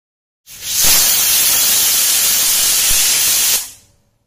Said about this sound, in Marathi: 3 शिट्ट्या झालेल्या आहेत